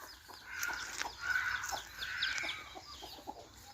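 A hen with her chicks clucks outdoors in the rain, several short, close calls scattered over soft background noise, with no speech.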